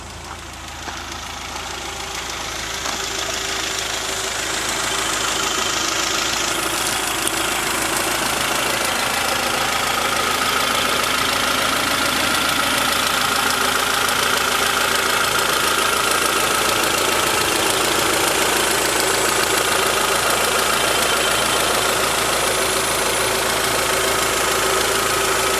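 A 1992 Honda Prelude Si engine idles just after starting, a loud, steady mid-pitched hum with a faint knock that settles in after a brief rise in the first few seconds and holds evenly throughout.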